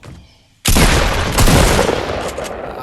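Gunfire in the Fortnite video game, a sudden loud burst of rapid shots after a brief lead-in, continuing as a dense close barrage for about two seconds.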